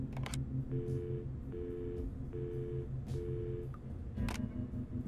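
In a video game, an old telephone line gives repeated short electronic tones in an even on-off rhythm, close and clear, with faint clicks and a low steady hum underneath.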